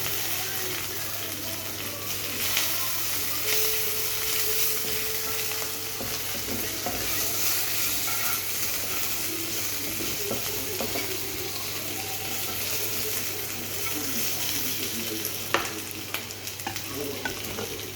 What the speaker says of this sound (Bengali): কারি পাতাগুলো ভেজে নিলাম।